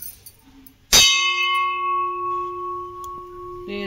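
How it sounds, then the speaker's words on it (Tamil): A single loud metallic strike on an antique brass vessel rings out, followed by a long, steady bell-like tone that slowly fades, with faint background noise. "மணி ரொம்ப நேரம் நிற்கிது வருங்க."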